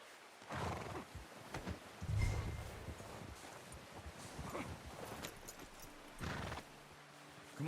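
Horse hooves clip-clop at a steady trot in the video game Red Dead Redemption, with an occasional whinny and rustling in the background, moderately loud and close.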